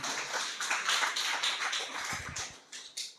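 Church congregation applauding, a dense wash of many hands clapping together for a few seconds, fairly steady and then tapering slightly toward the end.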